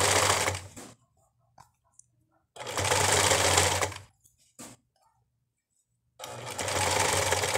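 An industrial sewing machine stitches a satin bra set, running in three loud buzzing bursts of a second or more with quiet gaps and brief clicks between them.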